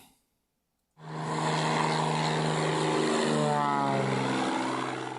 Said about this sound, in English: You hear that plane, Ricky?